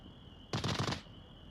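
A short rapid burst of automatic gunfire in a competitive video game match, about half a second of quick repeated shots, fairly faint against a steady background tone, with no talking.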